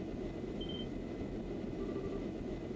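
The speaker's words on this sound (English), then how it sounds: "That's the sound of an airship engine." An airship engine in the role-playing video game Trails in the Sky SC, a low steady mechanical drone with faint high whining tones, heard quietly and continuously without talk.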